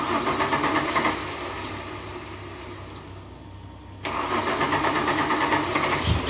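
A 1992 Ford Falcon EB engine cranks loudly for about a second, then drops to a quieter turnover before catching and firing up abruptly into a strong, steady idle. No one speaks.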